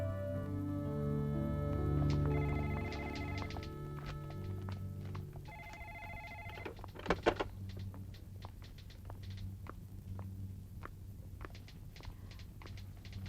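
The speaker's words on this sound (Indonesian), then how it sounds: "ada telepon" A telephone rings in an Indonesian film from 1996, repeated bell-like trills standing out over a steady low hum and scattered soft taps and footsteps, with no voices.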